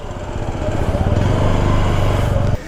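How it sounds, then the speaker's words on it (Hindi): A motorcycle engine idles and revs close by on a road in Himachal Pradesh, a steady throbbing drone that swells slightly before cutting off abruptly near the end. "हम अपनी बाइक कर रहे हैं साइड।"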